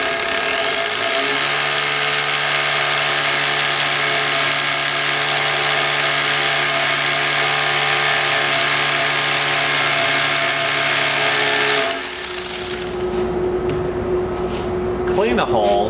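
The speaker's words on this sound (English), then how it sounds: "Drill the hole to the required embedment, in this case 1 5/8 inch for a 3/8 inch drop-in anchor." A hammer drill bores a 3/8 inch hole into concrete for a Red Head drop-in anchor, a loud steady whirring grind lasting about twelve seconds before stopping, with a voice narrating over it.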